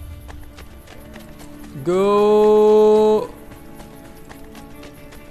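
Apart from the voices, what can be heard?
horse hooves galloping in video game Assassin's Creed Brotherhood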